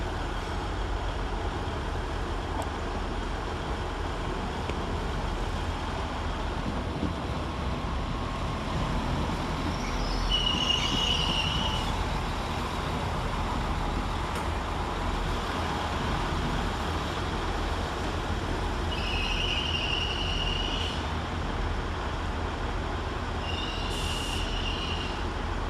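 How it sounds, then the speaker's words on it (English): A Northern Rail class 195 diesel unit from Leeds rumbles steadily into Sheffield railway station. Several short, high wheel squeals ring out over the continuous low drone as it slows. "Arriving to terminate with a Northern Rail service off Leeds is 195003."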